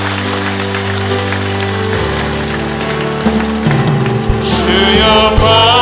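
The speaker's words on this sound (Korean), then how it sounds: "우리 주님께 큰 박수로 영광 돌리겠습니다." Church congregation at a prayer meeting breaking into loud, sustained applause, a dense crackling wash of clapping that fills the whole span, with music tones running underneath.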